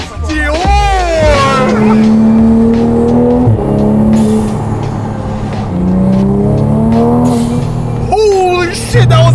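2020+ Toyota Supra MK5 with B58 engine, HKS exhaust and blow-off valve, revving loudly up close with turbo whooshes and blow-off hisses while people talk excitedly over it.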